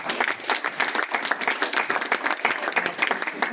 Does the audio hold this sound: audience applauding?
yes